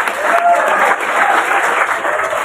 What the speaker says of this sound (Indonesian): Tepuk tangan buat Kota Cirebon sekali lagi